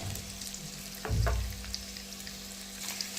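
Onions and chilies sizzle steadily in a hot pan for potato chili, with a brief stirring clatter partway through over a constant frying hiss.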